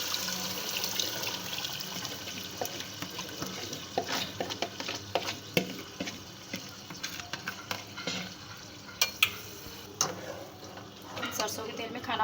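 Chicken qorma mixture cooking in mustard oil in a home kitchen pot, with continuous sizzling and frying under repeated scraping stirs and clinks of the spoon.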